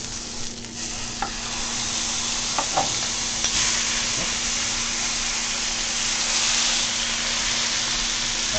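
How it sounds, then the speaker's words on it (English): Pork chops sear in a hot pan with a loud, continuous sizzle and hiss, broken by a few brief clicks and scrapes, with no talk. "Alright, so I got my sear going on that one side."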